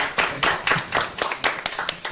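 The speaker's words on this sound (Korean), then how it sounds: "박수 많이 해주세요." Audience at a construction-quality roundtable clapping for an honorary chairman: a modest group giving sparse, uneven claps with distinct individual hits, fairly near and moderate in volume.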